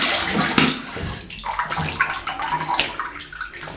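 Water splashes and sloshes as a shaving brush is dipped and swirled in water, a continuous wet churning with a few sharper splashes, close and moderately loud throughout.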